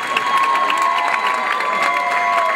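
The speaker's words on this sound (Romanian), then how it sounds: "aplauze pentru Vlad Teodorescu" At a school freshman ball, a lively student crowd claps and cheers loudly for a named organizer. The dense applause is mixed with shouts and whoops and stays steady and close throughout.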